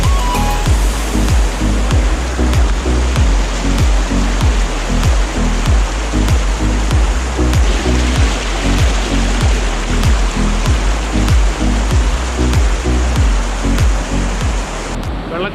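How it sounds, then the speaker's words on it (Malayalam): A stream and waterfall pour beneath a culvert near an aqueduct with a loud, steady rush that stays constant throughout and has a dense, churning texture and no voices. "ഈ കലിങ്ക് പോലെ ഇതിൻ്റെ അടിയിൽ കൂടെ ഇങ്ങനെ ഒഴുകി വരികയാണ്."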